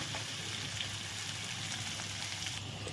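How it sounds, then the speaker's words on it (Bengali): Steady hiss and crackle of chopped onions, potatoes and green chillies frying in hot oil in a pan, a continuous even sizzle heard up close with no talking. "এখন দিয়ে দেবো পেঁয়াজ কুচি দিয়ে এখন ভালো করে নেড়ে চেড়ে ভেজে নিচ্ছি"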